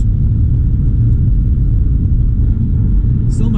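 A car cruises along the wet northbound I-69 highway, its steady tire hiss and low road rumble holding constant and loud throughout, with a brief brighter burst near the end.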